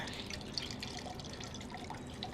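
Beef cooking liquid from a Wagyu chuck roast drips and trickles through a china cap strainer, a steady close patter of liquid falling throughout.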